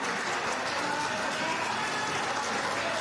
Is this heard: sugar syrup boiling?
no